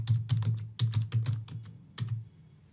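A password is typed on a computer keyboard in a quick, uneven burst of close key clicks that trails off toward the end.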